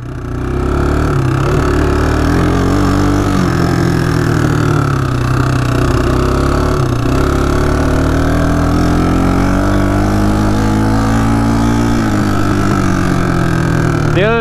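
A Kawasaki Bayou 220 ATV engine runs close and loud, holding a rough, steady drone with gentle swells in revs and a brief rise at the end, with no talking.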